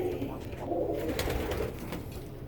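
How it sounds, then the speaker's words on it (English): Pigeons cooing in a research loft full of nest boxes, soft low repeated coos over a steady room hum, fairly close but quiet, with no talk. "There are more nest boxes than there are pairs of pigeons"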